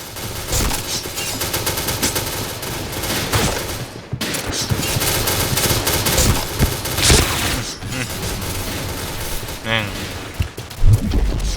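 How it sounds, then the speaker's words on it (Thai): Dense, loud gunfire and explosions in the Point Blank first-person shooter game, with continuous rapid bursts and booms throughout and a short break near the middle. "ระเบิดเยอะเกินไปแล้ว"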